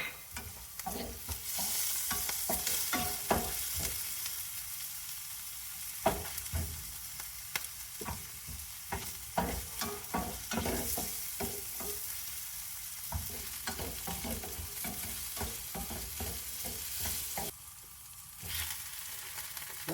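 Garlic, ginger and carrots frying in a pan, a quiet steady sizzle broken by repeated scraping stirs throughout.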